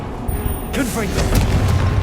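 A Confringo spell explodes in Hogwarts Legacy, a single booming blast followed by a rumbling, crackling tail that lingers under a voice calling out.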